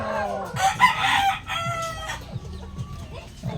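White Kelso rooster crowing close by, one drawn-out cock-a-doodle-doo followed by softer clucking and scattered farmyard noise, with a faint voice in the background.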